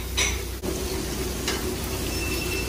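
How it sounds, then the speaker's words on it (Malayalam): Fish dipped in cornflour frying in oil in an Israeli restaurant kitchen near the Sea of Galilee, a faint continuous sizzle with a couple of brief scraping stirs over a low kitchen hum. "ജസ്റ്റ് കോൺഫ്ലോറിനകത്ത് മുക്കുന്നു പൊരിക്കുന്നു"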